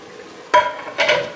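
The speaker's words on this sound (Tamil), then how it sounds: "இங்கே பாரு, நல்லா தெல்ல தெல்ல தெல்லன்னு கொதிக்குது" Mushroom curry bubbling and frying in a pan at home, with two short bursts of sizzling and stirring over a low steady hiss, close by and alone.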